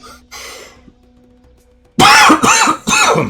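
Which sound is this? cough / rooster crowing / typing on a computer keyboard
cough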